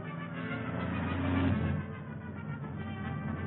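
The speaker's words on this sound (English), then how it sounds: "There's a car following us." A car drives behind in a radio drama, a steady engine rumble that swells briefly and then settles, heard alone without voices.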